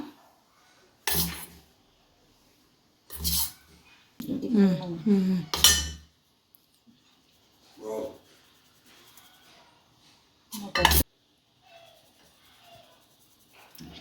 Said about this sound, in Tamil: கொஞ்சம் கொஞ்சமாக போட்டு ஜலிச்சு எடுத்துக்கலாம்.